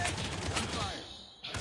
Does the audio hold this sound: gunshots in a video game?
yes